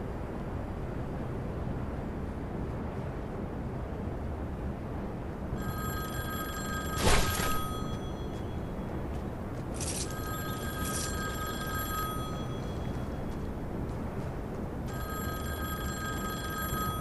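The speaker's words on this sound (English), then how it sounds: "The task is to get Sloan's order from payphone." A payphone rings in Fortnite, with a few short bursts of electronic ringing heard faintly over a steady ambient game background.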